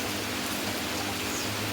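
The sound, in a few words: light rain drizzling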